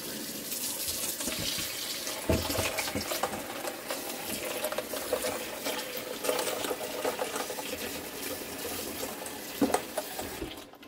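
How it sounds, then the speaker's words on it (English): Cold water runs steadily into a bowl of ice to make an ice bath in a kitchen, a continuous close splashing pour lasting several seconds with a few brighter clinks near the end. "And to the ice, I will just add some nice cold water"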